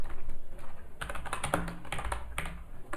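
HTML and JavaScript code being typed on a computer keyboard, close clicky keystrokes in irregular quick bursts over a faint steady background hum, no speech.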